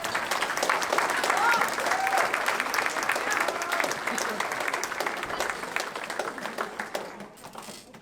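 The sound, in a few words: students applauding their parents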